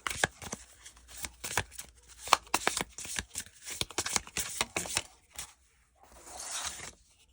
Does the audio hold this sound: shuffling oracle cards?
yes